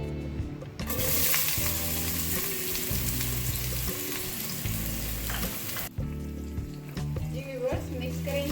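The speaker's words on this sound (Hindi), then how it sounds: "जैसे ही हमारा ऑयल गर्म होता है हम इसमें प्याज ऐड कर देते हैं।" Chopped onions hitting hot oil in a pan for Hyderabadi bagara rice, bursting into a loud, bright sizzle that holds steady, then drops back with a brief hum underneath.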